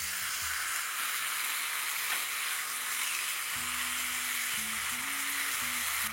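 Marinated chicken pieces fry in a pan over a medium flame with a constant, bright hissing sizzle, loud and even from start to finish, with a faint low hum underneath and no talking.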